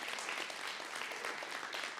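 A church congregation breaks into dense, sustained applause during a worship service, many hands clapping at once in an even, steady roar.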